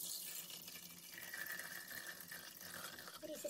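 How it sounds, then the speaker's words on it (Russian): Water pours steadily into the bowl of a Thermomix while rice is being steamed, a continuous splashing fill lasting several seconds at close range, with no talk. "Наливаем воду."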